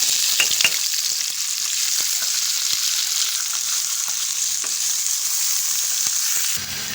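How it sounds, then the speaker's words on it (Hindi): Five to seven chillies sizzle in hot oil for a tadka, a steady, bright frying hiss dotted with small pops and crackles that runs close and even, with no voices. "तड़के के साथ ही मैंने 5-7 मिर्चें डाल दिए"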